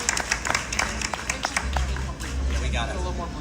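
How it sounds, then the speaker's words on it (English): A live event audience gives a round of applause, a scattered patter of clapping close by with crowd voices and talk mixing in as it fades. "Round of applause, please."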